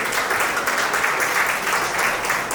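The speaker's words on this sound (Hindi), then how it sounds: "एक बार सभी पार्टिसिपेंट्स के लिए जोरदार तालियां तो बजती है।" Applause from an audience at a school Vedic speech competition, honoring all participants; steady, dense clapping fills the whole short stretch at a constant level.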